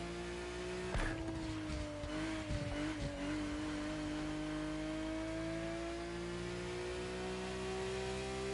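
A stock car engine from The Crew Motorfest drones in a steady rising whine, revving up smoothly and continuously over several seconds, with a few sharp transient knocks near the start and no talk.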